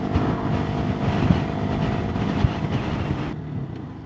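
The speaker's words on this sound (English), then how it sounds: "It's got a weird sounding exhaust though" Exhaust of a 2022 Sinnis SM-R 125 motorcycle in the UK, a steady rough engine drone with heavy wind rush at riding speed, loud and continuous before easing slightly near the end.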